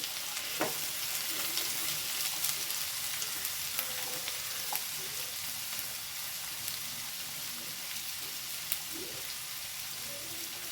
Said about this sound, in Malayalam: ചെറിയ ഉള്ളി എടുത്തത് അത് ഇതിലേക്ക് ഇട്ട് കൊടുക്കണ്ടേ ഇതൊരു ബ്രൗൺ നിറ ആവുന്ന വരെ നമുക്കൊന്ന് വാട്ടിയെടുക്കണം